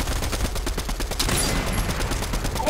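Gunfire at a building in the Fortnite video game, heard as rapid, loud, close bursts of repeated shots in a steady rhythm, with no talk.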